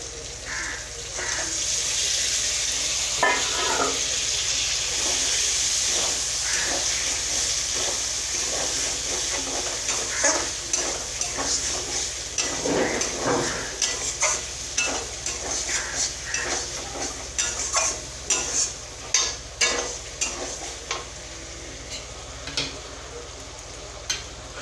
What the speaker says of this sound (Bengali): এবার এর মধ্যে পটলটা দিয়ে দেবো।